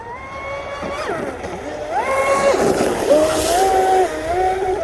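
Deltaforce 35 RC boat with a Spektrum 4685 1350kv motor and ZTW 200a controller, leaking water, screaming across the water with rising and falling electric whine as the throttle changes, steady and fairly loud with wind noise.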